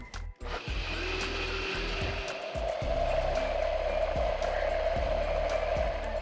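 An electric blender whirs steadily while blending mango puree, a continuous loud motor hum with a grinding, rattling texture and a slight rise in pitch partway through, with no talk.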